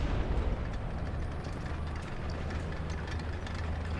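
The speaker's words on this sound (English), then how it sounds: "I hear a leopard engine." Leopard tank engine in the War Thunder video game, a steady low rumbling drone with a dense noisy growl, fairly loud and continuous throughout with no talking.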